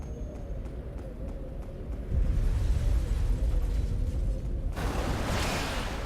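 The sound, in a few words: Blazing Bullet attack in video game Phantom Dust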